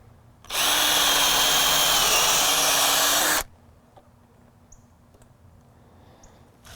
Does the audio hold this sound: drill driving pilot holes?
yes